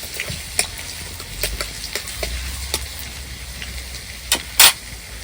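Minced garlic and ginger frying in hot oil give a steady low sizzle with scattered crackles and a couple of sharp pops near the end; no one speaks.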